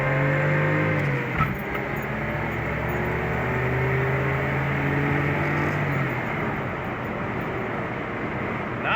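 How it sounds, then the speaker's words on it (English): A 1972 Datsun 240Z accelerates, its engine giving a loud continuous drone heard from inside the car, with a slight shift in tone early on and no voices. "This is when we test out the acceleration."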